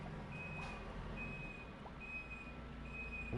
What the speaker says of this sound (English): Oh my god, someone's beeping outside. I think someone's reversing.